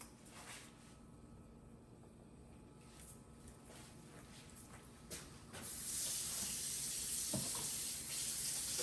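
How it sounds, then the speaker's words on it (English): Water runs from a tap, quiet at first, then gushing more strongly halfway through with faint splashing as hands are rinsed. "I have got to wash my hands now because I touched on that raw meat."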